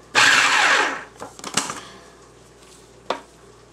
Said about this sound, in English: You can do this by hand if you don't have a food processor, but I'm just going to pulse this